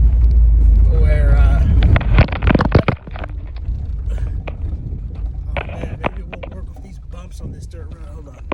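Car rolling along a dirt road with a heavy low rumble and scattered knocks and rattles from the bumpy surface, loud and close, with a voice talking over it.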